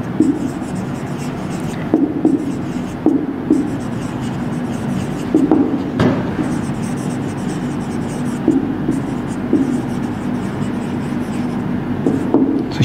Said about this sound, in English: Let's write the question first.